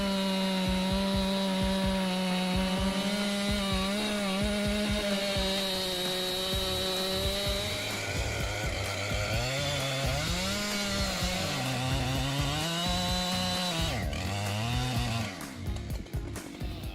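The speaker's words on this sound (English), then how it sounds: "The Husqvarna 592 XP chainsaw is a giant in the chainsaw world." Husqvarna 592 XP chainsaw with a 90cm bar cutting through a huge tree, the engine roaring loud and close throughout, its pitch rising and dipping as the chain bites and the throttle shifts.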